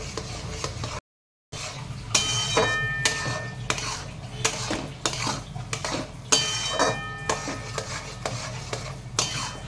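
A spoon clinks and scrapes around a metal pot as a raw mango mixture thinned with water is stirred, giving repeated sharp knocks and a light bubbling sizzle underneath.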